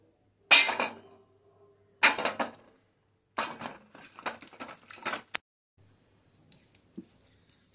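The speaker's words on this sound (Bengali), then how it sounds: "আমি প্রথমে আমড়াগুলোকে ভালো করে ধুয়ে নিচ্ছি। এখানে বাটিতে জল নিয়ে নিয়েছি।" Amra (hog plum) fruits being washed by hand in a bowl of water: a few separate bursts of sloshing and clinking against the bowl, close by, with quiet gaps and light taps near the end.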